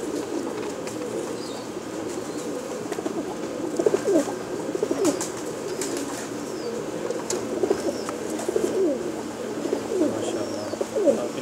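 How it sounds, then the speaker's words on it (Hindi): Pigeons in a pigeon shop coo over and over, overlapping low burbling calls from several birds nearby with occasional light rustles and brief chirps. "बहुत क्वालिटी वाले कबूतर हैं जी।"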